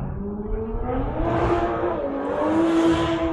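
A Toyota Supra drift car revving hard on a competition drift course, its engine note climbing and holding at high pitch, loud and close for a few seconds with faint tire noise.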